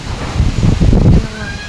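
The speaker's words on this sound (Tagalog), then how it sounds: "Medyo nalakas-lakas na ang hangin." Strong wind from an approaching typhoon buffets the microphone in loud, gusty low rumbles, swelling for about a second and then easing into a softer steady rush, with no voices.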